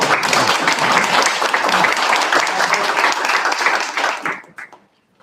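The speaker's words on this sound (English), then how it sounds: "can we give her a round of applause for Dr. Feeney?" A school board meeting audience gives a loud, dense round of applause that carries steadily for about four seconds, then fades out quickly into near silence.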